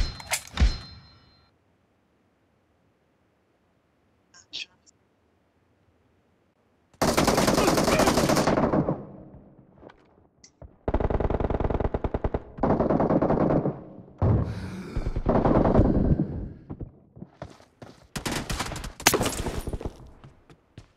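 Gunfire from the mobile game PUBG / BGMI comes as loud bursts of automatic fire and rapid shots, broken by silent gaps and followed by scattered clatter.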